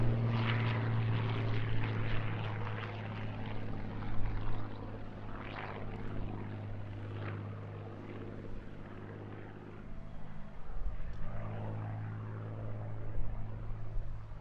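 A Hawker Hurricane fighter, the last one built in 1944, flies at the Eastbourne International Airshow with a steady droning piston-engine and propeller roar that swells and fades over a long stretch, no speech.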